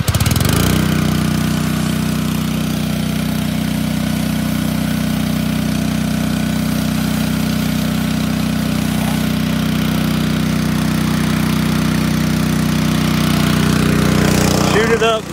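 A pressure washer's small engine runs steadily nearby with a loud, even drone and no changes in speed for the whole stretch, cutting off abruptly at the end.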